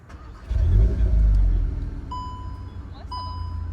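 A Volkswagen Golf 8 R starts up close by, its engine catching with a loud rising burst before settling into a steady idle, joined by electronic chimes from the car.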